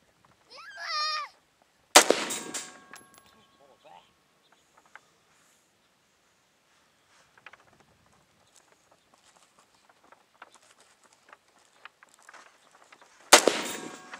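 Gunshots at an outdoor gun range, with two loud sharp cracks spaced about eleven seconds apart and small clicks and handling noises between them, plus a brief voice near the start.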